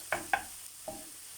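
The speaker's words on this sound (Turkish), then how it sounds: "Güzelce karıştırıyoruz." A utensil scrapes and clinks a few times in a pan of green beans on the stove, three brief strokes over a faint sizzle.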